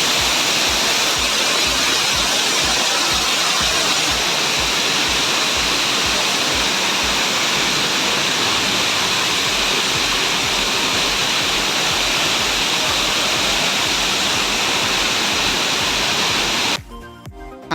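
Very heavy rain lashes down in Dubai amid strong wind, a dense, loud, unbroken roar of falling water that cuts off abruptly near the end.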